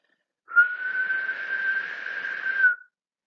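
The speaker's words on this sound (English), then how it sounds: "Okay, first I'm going to whistle." A person whistles one steady, clear tone that holds for about two seconds against silence, with no talking.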